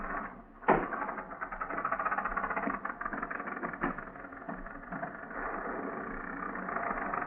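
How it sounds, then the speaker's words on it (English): A car motor idles steadily for several seconds with a low, even hum, joined early by a brief thump like a door or hood being handled. "Shall I turn off the motor? No, not yet."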